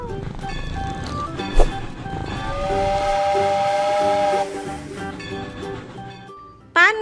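A steam train whistle blows long and loud above a steady hiss of steam, with sharp transient bangs and a looping children's-style musical backing underneath.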